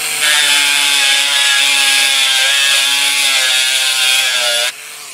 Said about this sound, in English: A little Dremel tool? That's a Dremel.